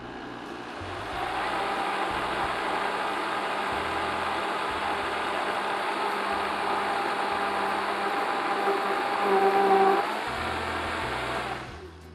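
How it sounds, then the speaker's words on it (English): A kitchen blender covered with a towel runs steadily for about ten seconds, a loud, muffled motor whir that swells slightly near the end before stopping, with no talking. "So definitely you'll want to cover your blender for this, or it'll go everywhere."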